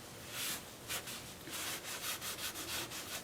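A cloth wipes brushed-on finish off a live edge wooden bowl, giving a soft, continuous rubbing hiss with gentle rhythmic strokes, close and fairly quiet.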